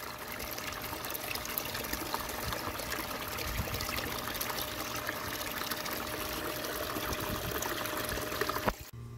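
Water trickles and pours steadily across a gold sluice as it is rinsed clean, a continuous close splashing flow with a small clatter just before the end, no voices.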